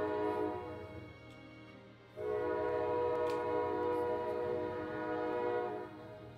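A train passes outside a closed-window room, sounding a long, loud horn with a rich harmonic chord that swells in partway through and holds for several seconds over low rumbling, then fades slightly at the end.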